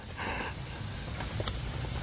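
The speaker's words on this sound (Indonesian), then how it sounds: "Itu suara apa itu? Suara jam," An expensive alarm clock goes off in a short, moderately loud burst of ringing with a couple of bright electronic beeps, set against a low background rumble.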